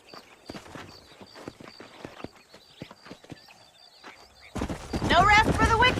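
Horse hooves clip-clop in the Red Dead Redemption video game near Armadillo, a quiet irregular run of hoofbeats with occasional snorts, cut off by a sudden burst of louder noise near the end.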